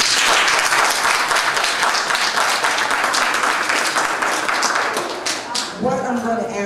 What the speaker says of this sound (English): please refrain from clapping or cheering for your candidate